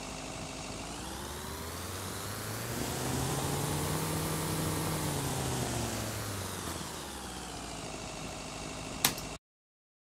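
A looped car engine recording in an FMOD adaptive engine demo holds a steady mid-range drone, its pitch rising and then falling back before it cuts off abruptly into silence.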